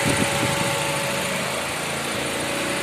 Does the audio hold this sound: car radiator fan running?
yes